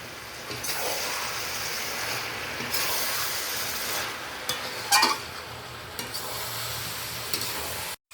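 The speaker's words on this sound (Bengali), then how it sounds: "এই দেখুন পেঁয়াজ আর ক্যাপসিকাম ভাজা ভাজা হয়ে গেছে" Onion and capsicum frying in a pan for chilli chicken: a steady close sizzle and hiss throughout, with occasional scraping stirs and one sharper clatter partway through.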